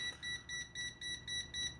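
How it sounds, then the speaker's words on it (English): The high current alarm on a cheap ZEAST 282 multimeter goes off as a rapid, evenly pulsed electronic beep, about six beeps in under two seconds, thin and fairly quiet. "Now we've got that high current alarm coming up on the Zeast, good to see."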